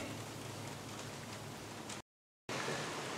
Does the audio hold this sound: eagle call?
no